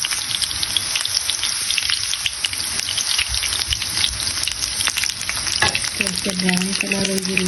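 A few fenugreek seeds and onion fry in hot oil for an okra bhaji, giving a loud, continuous close-up sizzle and crackle with scattered pops and a brief stirring clatter near the end.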